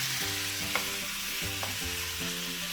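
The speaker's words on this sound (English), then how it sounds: "And we're just browning the meat now." Meat browning in a pan for Filipino adobo: a soft, steady sizzle with a couple of light utensil taps, heard beneath sustained musical tones.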